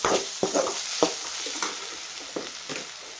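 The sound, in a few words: sautéing tempering in a pan for leftover rice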